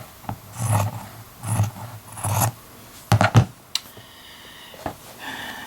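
Scissors snip through sweatshirt fabric while trimming a vest side to match a cut line, giving three broad rasping cuts, a quick double snip near the middle and a few lighter clicks, close and moderately loud with no voices.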